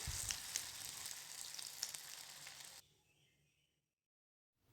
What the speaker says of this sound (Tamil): நம்ம கோட் பண்ணி வச்ச எல்லா முட்டைகளையும் நம்ம போட்டு ஃப்ரை பண்ணிக்கலாம்